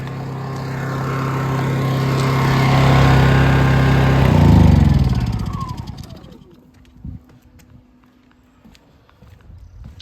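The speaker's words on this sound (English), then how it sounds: "turn the generator off real quick" Honda EU2200 portable generator running with a loud steady engine drone that swells, then is switched off and winds down over a couple of seconds, followed by faint clicks and near quiet.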